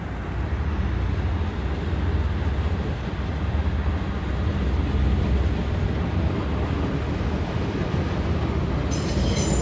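Trains run through Copenhagen at night, a steady, continuous rumble of rail traffic with wheels grinding on track, sustained and fairly loud throughout without pauses.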